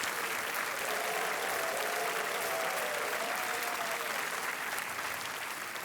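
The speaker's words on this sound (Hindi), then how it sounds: "तालियों के साथ हम आपका अभिनंदन कर रहे हैं" A TV quiz show studio audience bursts into loud, sustained applause, dense clapping that holds steady for several seconds before easing slightly near the end.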